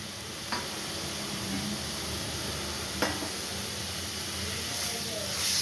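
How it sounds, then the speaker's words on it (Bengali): Chopped tomatoes go into a hot frying pan for a chickpea curry, giving a steady close sizzle with a couple of sharp clicks from the stirring utensil. "টমেটো কুচি রেখেছি, টমেটো দিলাম"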